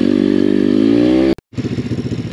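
A KTM 450 dirt bike engine labours loudly on a hard enduro climb, with a steady high revving drone that cuts out briefly and then returns as choppy, pulsing bursts.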